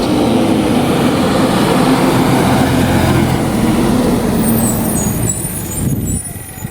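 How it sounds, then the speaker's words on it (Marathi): A state transport bus pulling in at a village stop on the Mumbai–Belgaum road, a loud close rumbling diesel engine with air-brake hiss and a steady drone that eases off near the end. "गावच्या स्टॉपवर येऊन एस टीची वाट बघत बसलो"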